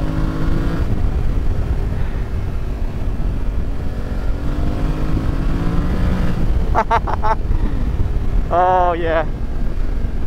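A Yamaha Tenere 700 motorcycle hums steadily during a ride, a continuous engine drone with wind under it, and a rider speaks briefly over the noise near the end.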